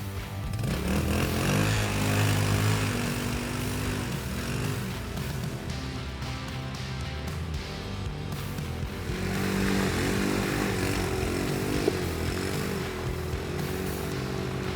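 A cheap ATV quad climbs out of rough terrain without a winch, its small engine buzzing and revving unevenly at a moderate distance, with pitch swells as it labours and then eases.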